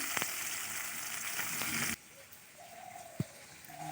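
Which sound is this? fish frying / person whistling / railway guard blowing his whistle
fish frying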